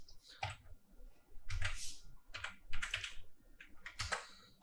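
Close, quick clicking of keys on a computer keyboard as C code is typed, in uneven bursts of taps with no talking.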